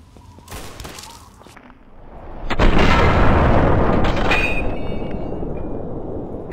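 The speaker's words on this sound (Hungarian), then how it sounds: "most valószínűleg mindjárt dobnak felém egy gránátot" A grenade detonates in the video game Fallout 3: a sudden loud blast bursts in midway and trails into a long rolling rumble, preceded by quieter scattered cracks.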